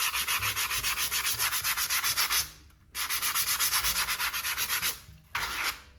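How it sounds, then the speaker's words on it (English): A sponge scrubs burrs and plastic bits from a speargun tube in quick, rhythmic back-and-forth rasping strokes, close and steady, broken by two brief pauses. "now we're gonna use the sponge just to get rid of any burrs or remaining pieces of plastic"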